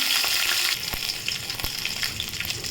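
Mustard seeds and dried red chillies crackle and splutter in hot oil, a busy hiss scattered with small pops and a couple of sharp ticks from a utensil, fairly quiet and close.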